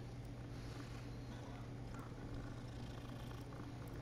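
A cat in the Hogwarts Legacy video game purrs while being petted, a low steady rumbling purr that stays even and close throughout, with no speech.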